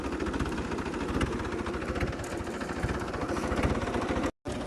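A tractor engine runs continuously close by, with a rhythmic low chugging and a vibrating rumble. There is no talking, and the sound cuts out briefly near the end.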